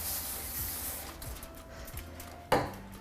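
Cooking spray hisses onto dull-side foil in a kitchen sink, a steady aerosol spray up close followed by a sharp clatter as the can or foil is set down.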